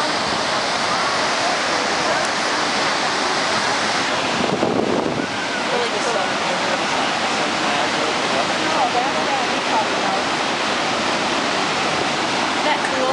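Shoshone Falls roars as a constant, heavy wash of falling water, loud and steady throughout with some wind buffeting the microphone.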